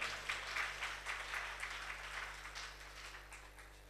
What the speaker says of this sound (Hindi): एक दफ़ा तालियां बजाकर इस्तकबाल करें।